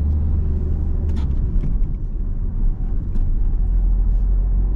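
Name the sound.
car accelerating and shifting into third gear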